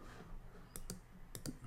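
Two pairs of sharp computer mouse clicks, close and crisp, spaced about half a second apart over a quiet room background, while a web app is tested.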